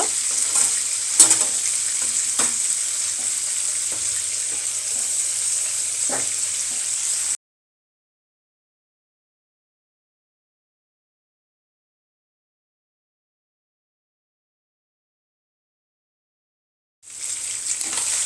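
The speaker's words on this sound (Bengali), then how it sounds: "এই তেলেই পেঁয়াজ কুচি দিয়ে তারপর মাছটা ভুনা করব" Chopped onions and fish fry in hot oil, a loud, close, continuous sizzle with occasional clicks and stirring, then a long silence before the sizzling returns.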